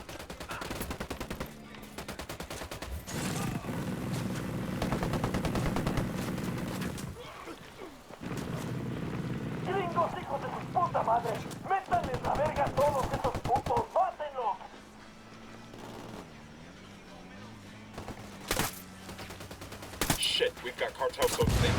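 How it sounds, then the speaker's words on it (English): Gunfire in the Ghost Recon Wildlands video game: loud, dense bursts of automatic shooting in sustained volleys, with game ambience and intermittent male speech over the action. "I'm shooting these fuckers."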